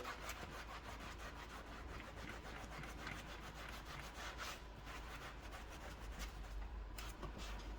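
A brush scrubs back and forth across the pile of a car carpet in a Startrek Voyager, giving a steady rasping, rubbing texture close by with rhythmic strokes and no talking.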